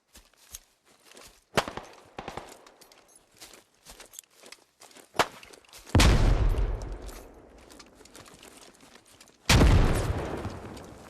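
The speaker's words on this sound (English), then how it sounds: "let me throw a grenade in" Gunfire in the military shooter game Squad, with scattered sharp shots and footsteps building to two heavy booming blasts like grenade explosions inside a building, each leaving a long rumbling decay.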